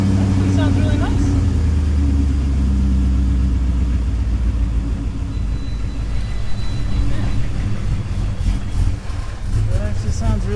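A Ford Foxbody with a swapped Coyote V8 idles through its exhaust, a steady low rumble that continues loud and close throughout, with a person talking over it.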